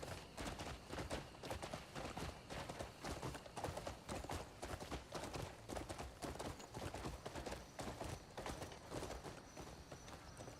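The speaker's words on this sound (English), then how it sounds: "We're gonna learn how to ride this horse." Horse hooves in the video game Crimson Desert clop in a steady, quick rhythm while riding, with repeated footfalls over a continuous ambient background and no talking.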